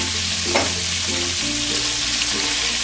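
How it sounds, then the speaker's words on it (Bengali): Pointed gourd, or potol, frying in a pan gives a dense, continuous sizzle with a low steady hum underneath and a light stir or two, loud and close, with no speech. "পটলগুলোকে খুব সুন্দর করে ভেজে নেব"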